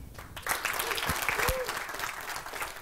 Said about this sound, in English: Please welcome, with a warm applause, Neil Holmes